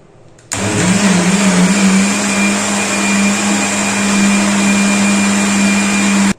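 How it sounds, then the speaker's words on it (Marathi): A mixer grinder grinding rice whirs loudly and steadily after a sudden start, a high motor whine with a strong hum that runs unbroken until it cuts off. "मिक्सरला लावायचं आहे"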